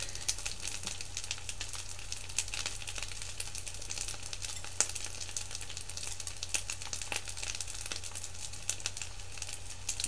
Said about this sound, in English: I'm frying them up.